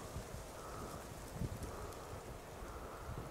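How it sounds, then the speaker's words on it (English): Wind blowing outdoors on a summer hike near rocky terrain, a steady low rushing buffet across the microphone, continuous and fairly loud with no talking. "it's windy. The wind just picked up."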